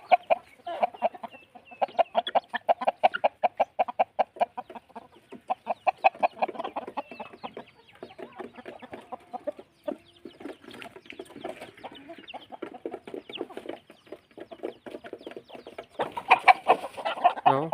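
Fighting cocks at the Thep Nam Chok farm cluck in quick, rhythmic bursts with a few crows, close and fairly loud, and the calling carries on almost without a break.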